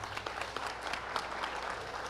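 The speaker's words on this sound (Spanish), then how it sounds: "Aplauso para Claudia, por favor." An audience at a panel discussion on river restoration claps steadily and evenly throughout, a soft, dense patter heard from within the room.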